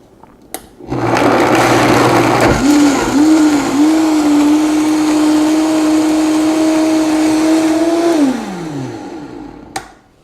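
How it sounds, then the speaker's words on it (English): Powerful blender whirring as it purees almonds into almond milk, a loud steady motor drone that starts abruptly, pitches up briefly as it settles, runs for several seconds, then winds down, with a few faint clicks. "Because I have a powerful blender, I'm gonna blend it for probably 30 to 45 seconds."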